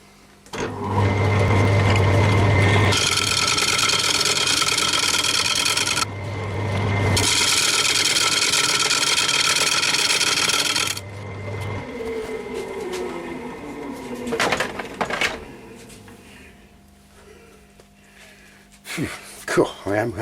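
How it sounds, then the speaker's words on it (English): A parting tool cuts dry wenge wood on a lathe in loud, steady rasping bursts with brief gaps. The cutting gives way to quieter scrapes and knocks near the end, with a voice talking over it. "I'm just doing it with the parting tool, taking my time."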